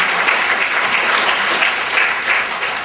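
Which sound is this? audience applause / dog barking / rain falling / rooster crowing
audience applause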